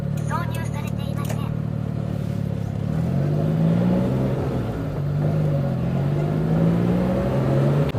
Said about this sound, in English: hopefully you're going to be able to hear me over the engine noise